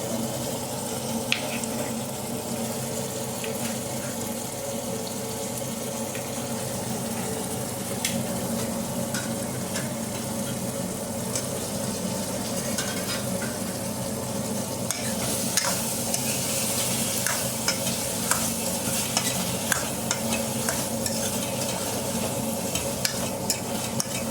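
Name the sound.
potatoes frying in a pan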